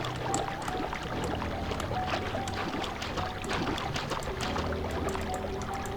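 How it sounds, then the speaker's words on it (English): Water overflowing without pause in the horror game Heartworm, a steady trickling, splashing wash with soft drips and knocks scattered through it at an even level. "Water's continuously overflowing, no way to stop it."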